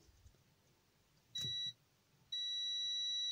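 A multimeter gives its continuity beep while a fuse is tested during a repair of a Delta DPS-150TB power supply. Two steady electronic tones sound: a short one, then a longer one that runs on to the end, with no talk.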